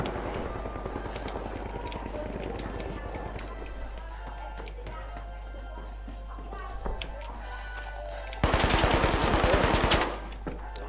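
Rapid bursts of gunfire in the game THE FINALS rattle in the foreground, then a loud sustained volley near the end, over constant background noise.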